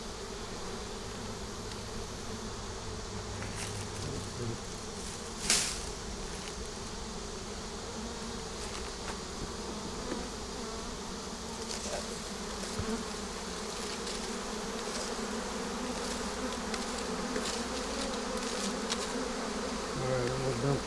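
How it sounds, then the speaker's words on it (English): A swarm of honeybees packed inside a swarm box makes a dense, continuous buzzing hum at low level, steady throughout, with one brief sharp tap partway through and no talking. "Okay, there's so many bees in this box,"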